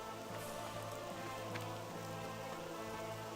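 Steady rain hisses across the whole stretch in a video game, constant and moderately loud, with a few faint ticks on top and no voices.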